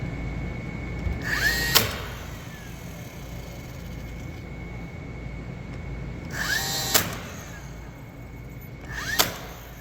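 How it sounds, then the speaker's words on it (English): A pneumatic nailer fires three sharp, loud shots, spaced several seconds apart, driving nails through mitered interior trim into place over a steady low background hum. "I'm going to nail that in"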